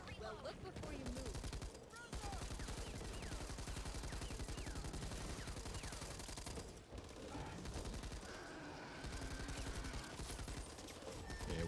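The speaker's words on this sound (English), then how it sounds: "Machine gun" Sustained machine gun fire in the video game Back 4 Blood, long rattling bursts with only brief pauses, loud and steady, while a voice talks over the shooting.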